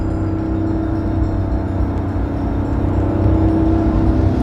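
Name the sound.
Porsche 911 GT3 engine revving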